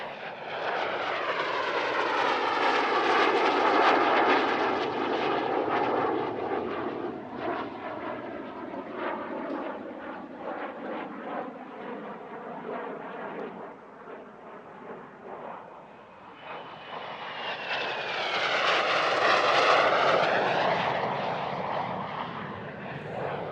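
A Polish-built Lim-2, the MiG-15 jet, flies passes at an airshow, its engine roar swelling and fading twice with sweeping whistling tones as it approaches and recedes, loud and uninterrupted by voices.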